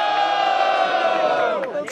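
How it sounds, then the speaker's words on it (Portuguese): At a Brazilian rap battle, a crowd cheers and shouts loudly and continuously in a dense, sustained roar that fades slightly toward the end. "quem gostou das rimas do K16 faz muito barulho"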